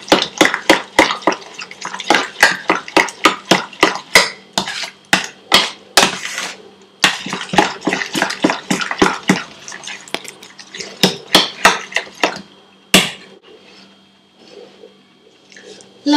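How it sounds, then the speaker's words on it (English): Seekh kebab mixture is mixed by hand in a bowl, producing a close, rapid series of wet slapping thuds at a steady rhythm that slows and fades near the end. "Mix it up real good so that they all taste and look the same"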